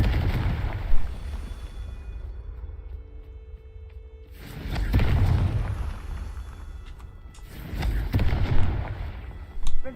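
Confringo fire spell blasts in the video game Hogwarts Legacy: three heavy, booming bursts spaced a few seconds apart, each with a rolling low-end rumble, loud and near, separated by quieter ambient hum.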